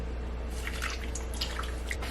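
Water poured into a slow cooker, a soft splashing and dripping trickle over a steady low hum, close and brief, no talking.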